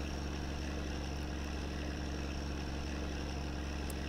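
A truck engine idles in the video game My Summer Car, giving a steady, unbroken low rumble with a faint whine on top that stays at the same loudness the whole time, with no voices.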